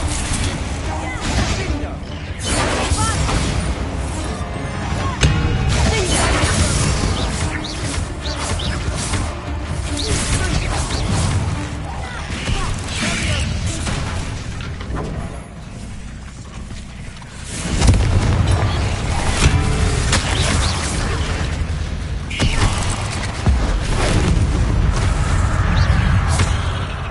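Confringo fire spells and other blasting spells go off in the video game Hogwarts Legacy, a dense barrage of booms and crashes under steady combat noise, with a sudden louder burst partway through.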